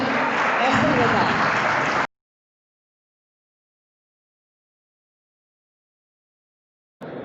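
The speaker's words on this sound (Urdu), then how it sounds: "بھرپور تالیاں احسن رضا" Loud, dense applause for a student writing-competition prize winner at a school speech and naat event, a steady burst of clapping that cuts off abruptly, then silence before a brief return.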